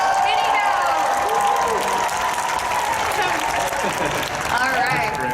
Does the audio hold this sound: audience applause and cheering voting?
yes